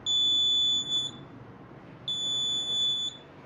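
Buzzer of homemade smart gloves for the blind gives two sustained, shrill electronic tones, each about a second long, separated by a short pause, loud and close with no talking.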